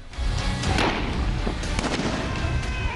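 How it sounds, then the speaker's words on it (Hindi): Gunshots fired into the air during a street protest with stone-throwing and tear gas shells, a dense burst of loud cracking reports over a noisy crowd scene. "एक तरफ से पत्थर बरसे तो दूसरी जानिब से आंसू गैस के शेल बरसाए गए और हवा में गोलियां चली।"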